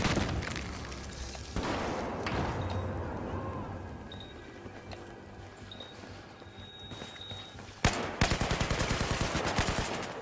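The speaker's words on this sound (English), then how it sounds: "Now I accidentally shot my teammate just then." Gunfire in Battlefield 4 on PS4 during a close-quarters Team Deathmatch on Zavod 311, with a G36C carbine: scattered shots over a busy battle din, then a loud rapid automatic burst in the closing seconds.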